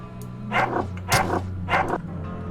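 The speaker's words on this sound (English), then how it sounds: "I don't want to fight the dog." A dog in the video game UnderRail: Expedition barks three times in steady succession, gruff and fairly close, over a low humming game ambience.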